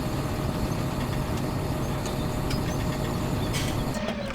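A tractor engine idles steadily in Farming Simulator 17, a continuous low rumbling drone with a few faint clicks, with no talking over it.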